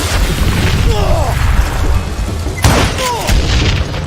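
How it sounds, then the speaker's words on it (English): A dynamite blast in the Western shooter Call of Juarez: Gunslinger, a heavy booming rumble that rolls on with a sharp crack near the middle, loud and dense throughout. "Who said you could throw dynamite?"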